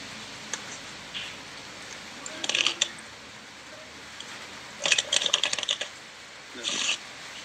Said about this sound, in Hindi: ये कार्ड्स शफल ले दो थोड़ा